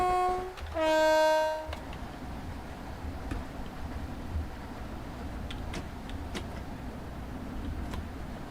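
A Class 465 electric train in the Train Sim World 2 simulator sounds a short, loud two-tone horn blast near the start, then its steady low running rumble continues with faint clicks over the rest.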